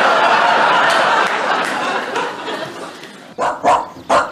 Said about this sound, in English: What's this? A dog.